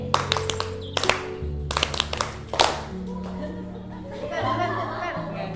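A classroom group of students claps out a counted rhythm, sharp synchronized hand claps in short bursts and patterns, with a teacher's voice and some chatter and laughter around them.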